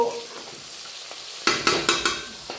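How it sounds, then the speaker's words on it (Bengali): Capsicum pieces fry and sizzle in a pan for chili chicken, a steady hiss broken by four sharp stirring scrapes in quick succession near the end, close and fairly loud. "আমি ক্যাপসিকাম অ্যাড করে দিই, দেওয়ার পর আমি এটাকেও একটুখানি ভেজে নিচ্ছি"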